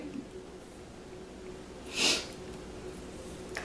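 A single quick sniff through the nose sounds near the middle of an otherwise quiet stretch.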